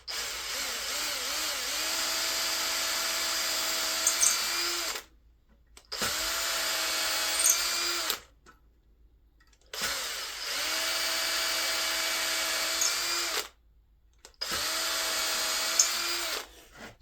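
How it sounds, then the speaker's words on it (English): A cordless power drill bores into a wooden board for a gun cabinet build, running in four sustained whining bursts of several seconds each, separated by short silent pauses, loud and close with no talk. "I'm gonna drill into it"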